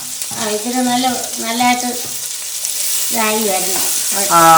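Chopped onion with garlic frying in hot oil for a Kerala-style egg roast, a steady close sizzle running throughout, with a voice-like tonal sound rising and falling over it in bursts.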